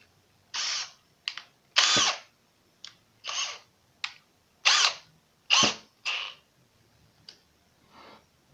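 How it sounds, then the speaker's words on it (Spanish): A drill fitted with a countersink bit bores into wood or MDF in a series of short, sharp bursts, about ten quick whirring pulses separated by brief silences, close and fairly loud with no talking. "Haré un par de perforaciones utilizando la broca avellanadora"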